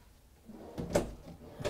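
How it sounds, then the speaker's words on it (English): A soft-close pull-out drawer in a Newmar Dutch Star motorhome slides shut with a soft, muffled thud, followed moments later by a second light knock; close by and fairly quiet. "Plenty of storage down here also with four nice pull-out drawers."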